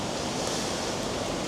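Dense, steady roar of a raging waterfall at Invermoriston in the Scottish Highlands. Broad rushing water noise fills the short span evenly, with no voices.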